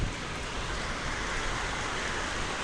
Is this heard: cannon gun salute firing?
no